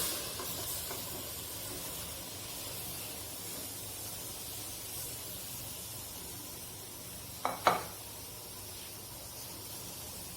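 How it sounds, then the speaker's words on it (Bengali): A pot of water holding chopped taro stalks comes to a rolling boil on a stove, giving a steady soft hiss and bubbling that runs throughout, with a couple of brief knocks near the end. "চুলার পানিগুলো বলক উঠে গেছে।"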